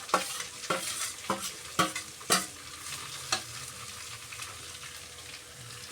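Shredded cabbage and carrot sautéed in a pan, with a quick run of sharp spatula scrapes and clicks over a soft, steady sizzle that then settles into a quieter fry.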